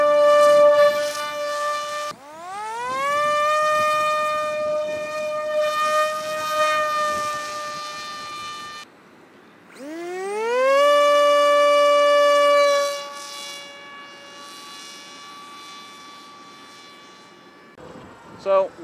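An RMRC Recruit RC plane's electric motor whines loudly at three-quarter throttle, rising in pitch as it spins up twice with a brief drop between, then fading as the plane flies off.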